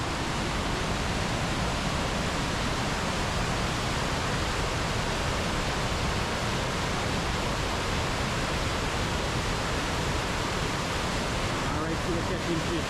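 A powerful, continuous roar of falling water at Tumatumari Falls on the Potaro River, broad and unbroken, heard up close for over ten seconds with no letup.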